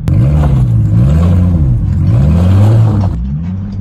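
A car engine burning alcohol fuel while driving, a loud close rough drone that rises and falls in pitch with uneven revs, then drops off near the end.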